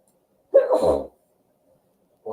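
A single close, loud sneeze bursts out for about half a second, followed by silence and then the start of a voice at the end.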